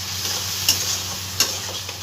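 Ginger and green chili paste with a splash of water stirred in a frying pan for a prawn dish, a steady close sizzle broken by two brief sharp scrapes of the utensil.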